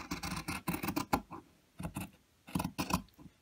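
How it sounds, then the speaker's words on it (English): Scissors snip through fabric in rapid clusters of crisp cuts separated by brief pauses, close up and alone. "All you have to do now is cut along that line."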